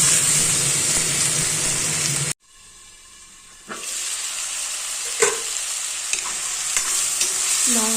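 Pork frying in oil in a pan, with a loud steady sizzle that cuts out abruptly, then returns at lower level with scattered crackles and light stirring clatter.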